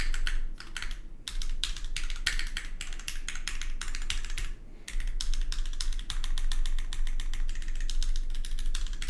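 Steady, close typing on a Tohsaka65 prototype mechanical keyboard: rapid, crisp clacking keystrokes in continuous bursts, with two short pauses, alone and with no talk.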